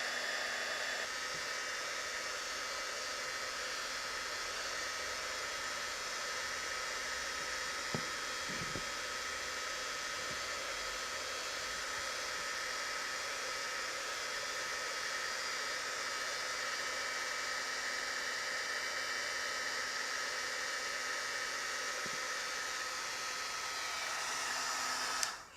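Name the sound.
heat gun melting wax into wood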